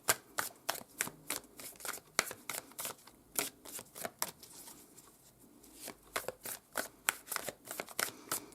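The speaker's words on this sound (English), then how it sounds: "as I'm shuffling the cards" Tarot cards are shuffled in quick, crisp riffles, with rapid papery flicks in irregular bursts, close and fairly quiet.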